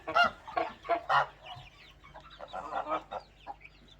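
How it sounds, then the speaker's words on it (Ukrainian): Several geese honk in loud, irregular bursts nearby, with clucking fowl mixed in and quieter calls trailing off. "Так, тут гуси ходять."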